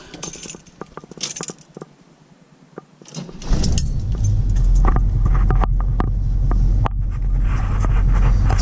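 Keys jingle and clink near the ignition of a 1976 Camaro, then its small block 350 V8 cranks and fires. It settles into a loud, steady, rumbling idle up close.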